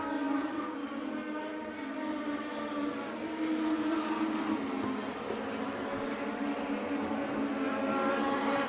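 Race cars lap the short Wiscasset Speedway oval in a steady, continuous engine roar heard from a distance, the pitch rising and falling gently as the pack circles with no talk over it.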